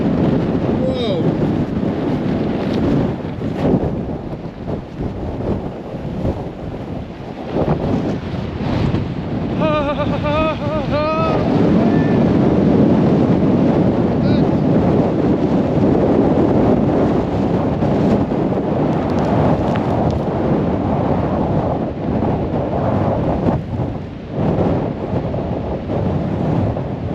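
Strong wind buffets the microphone continuously with a loud roaring rumble, along with water and boat sounds and occasional voices.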